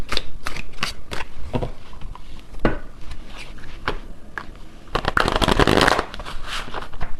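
A deck of tarot cards being shuffled by hand: a quick run of crisp riffling and snapping strikes, close and loud, swelling into a longer dense riffle near the end.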